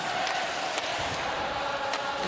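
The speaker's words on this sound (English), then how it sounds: "The crowd singing loud" Hockey crowd singing loudly inside the Verdun arena during a PWHL women's game between Toronto and Montreal, a dense, steady wall of massed voices with no break.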